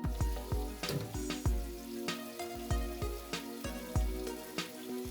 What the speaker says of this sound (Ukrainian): Поки в нас обжарюється м'ясо